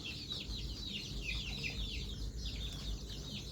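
A free-range village chicken with a sore, swollen eye clucks softly amid quiet rural background noise, a series of short repeated calls heard close and alone without talk.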